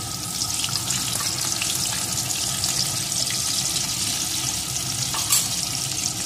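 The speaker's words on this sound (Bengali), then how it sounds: "এখন আমি আলুর টুকরোগুলোকে প্রথমে এই তেলের ভিতরে দিয়ে দেব।" Potato pieces frying in hot mustard oil in a kadai for a mutton curry, with a loud, steady close-up sizzle and bubbling that holds evenly, plus a brief clatter near the end.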